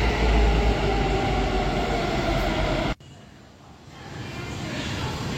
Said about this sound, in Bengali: সঙ্গে সঙ্গে ট্রেনটা চলে এলো।